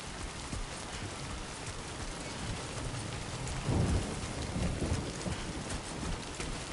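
Steady heavy rain pours through a video game scene, with a deep roll of thunder swelling near the middle before easing back into the constant downpour.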